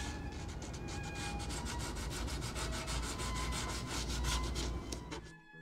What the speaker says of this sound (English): in between coats, the varnish needs to be sanded